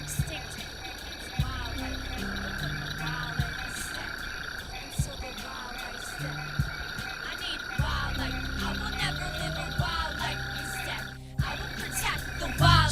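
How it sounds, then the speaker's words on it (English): Frogs croaking outside before a storm, with crickets and insects trilling steadily beneath; rhythmic repeated croaks come in bursts, moderately distant, and a vehicle passes faintly. "it sounds like this all the time when there's storms rolling in"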